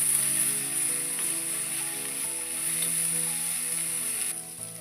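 Tomatoes frying in a little oil for a North Karnataka tomato chutney: a steady, bright sizzling hiss runs throughout, moderately loud beneath low tonal background music.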